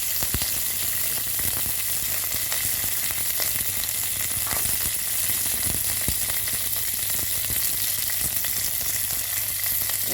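Dried red chillies and curry leaves frying in oil, a steady loud sizzle and crackle with occasional sharp pops and faint stirring, no voices.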